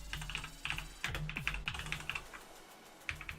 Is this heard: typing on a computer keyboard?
yes